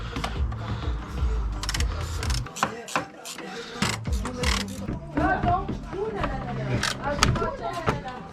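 Ratcheting wrench clicks in quick bursts while the radiator fan screws are undone on a Porsche 944 during maintenance, set against workshop clatter and a voice talking nearby.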